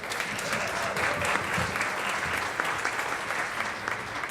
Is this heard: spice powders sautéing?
no